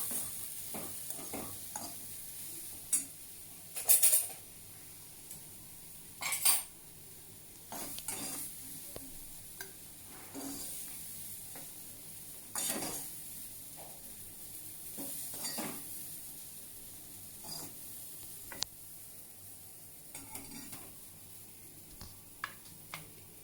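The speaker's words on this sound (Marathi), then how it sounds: "मी आता हे सर्विंग बाउलमध्ये काढून घेते।" Butter masala corn scraped from a pan into a serving bowl, with a steady low background broken by scattered clinks and scrapes of a spoon against cookware, a few louder knocks standing out.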